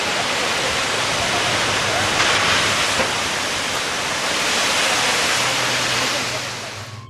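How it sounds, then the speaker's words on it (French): Giant ocean waves over 10 metres high crash and roar in a dense, continuous wash of surf that stays loud for the whole stretch and fades slightly at the end. "Sur cette séquence, les vagues paraissent petites, mais en réalité, elles dépassent les 10 mètres."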